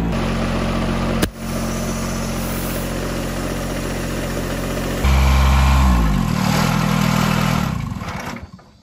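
An older lawn mower engine idles loudly close by in a steady, throbbing drone, broken by a brief click, then rises in pitch before tapering off near the end.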